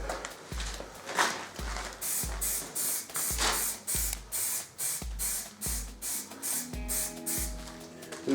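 A spray can hisses in a regular series of short bursts, about a dozen close, loud pulses with brief gaps, as satin black paint goes onto car wheels.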